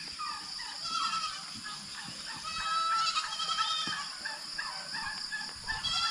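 A group of goats on a farm bleat repeatedly in short, overlapping calls, fairly faint and steady over a quiet background.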